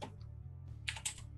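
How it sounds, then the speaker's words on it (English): Computer keyboard typing, soft rapid key clicks in short bursts over a low steady hum, with a louder flurry of keystrokes toward the end; faint and close, no talk. "Typing intensifies."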